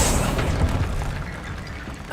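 Confringo explosion spell going off in Hogwarts Legacy, a single deep booming blast that rumbles and fades over about two seconds with no talking.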